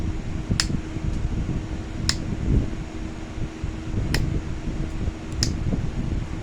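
A Dremel rotary tool grinds on glass tile while knapping a point, a continuous close whirring hum punctuated by a few sharp clicks and ticks, with no speech.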